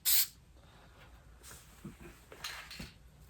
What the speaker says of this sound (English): Do a test spray.